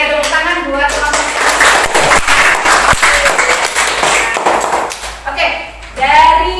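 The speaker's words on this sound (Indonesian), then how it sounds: "Oke, tepuk tangan buat kelompok." A classroom of children claps for a group, with brisk irregular hand claps mixed with nearby voices and chatter, loud and close, fading out as an adult begins speaking.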